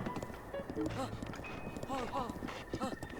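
Hooves of a horse ridden by Link in Breath of the Wild, a rapid clip-clop running under steady game music and someone talking throughout.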